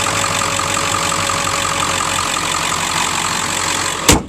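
Steady, loud idle of a 2002 Ford F250 XLT crew cab's 7.3L Power Stroke diesel, a continuous rumble with an even hum running throughout and a brief sharp knock or clunk near the end.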